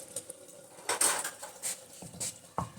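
Coarsely pounded ingredients are tipped from a utensil into a pan of green leafy vegetable curry (hara saag), giving soft scraping and metallic clinks of a spoon on cookware, a few brief close knocks and taps at moderate loudness.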